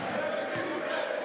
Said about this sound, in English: The crowd noise is incessant in this gym.